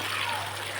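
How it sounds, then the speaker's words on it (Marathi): Water poured over a large batch of potatoes for washing gives a continuous, fairly loud broadband rush with a low steady hum beneath it. "त्याच्यात पाणी टाकून घेते"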